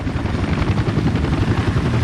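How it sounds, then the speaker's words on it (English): A helicopter in the Workers & Resources: Soviet Republic game flies very close, its dense rotor thump throbbing loud and steady without pause. "There's a helicopter very close."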